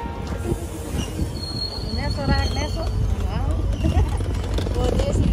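A train pulls into an Indian railway station with squealing wheels and rumbling rolling stock, loud and close, under a person talking on the platform.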